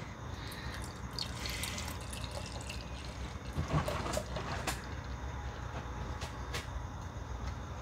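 Doughnut imperial stout beer being poured into a La Fin du Monde stout glass, a soft splashing, trickling stream with small drips and gurgles, close and fairly quiet, no talking.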